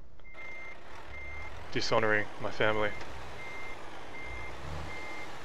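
In Euro Truck Simulator 2, a Mack Titan truck backs up with its steady reversing beeper pulsing in slow, even intervals, fairly faint under a low engine rumble while someone talks briefly in the middle.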